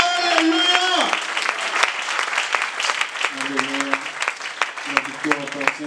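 A church congregation bursts into sustained applause, with rapid overlapping clapping throughout and sung or chanted voices rising above it at moments.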